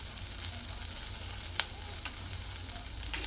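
Green chillies sizzle and fry in a pan with garlic and onion, a steady soft crackle with one brief sharp clink partway through, no voices.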